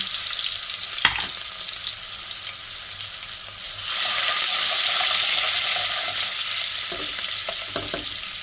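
Chopped ginger and garlic frying lightly in a pan for chicken biryani, a soft hiss that swells into a louder steady sizzle partway through, with occasional utensil knocks.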